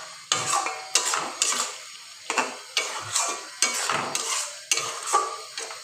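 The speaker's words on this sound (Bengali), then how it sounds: "ভালো করে মশলাটাকে কষিয়ে নিতে হবে" Chicken curry masala being fried and stirred in a pan, a spoon scraping in repeated strokes about twice a second, close and clear over a faint sizzle.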